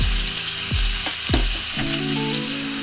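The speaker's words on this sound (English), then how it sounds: "Once the oil is hot, add the beef and fry for 5 minutes" Beef fries in hot olive oil in a pan over medium-high heat. A loud, continuous sizzle runs throughout, broken by a few thuds and scrapes as the meat is moved.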